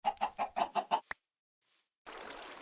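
Minecraft chicken clucking in a quick run of six short, bright clucks followed by a single sharp note, then a pause before a steady burst of background noise; close and moderately loud, with no talking.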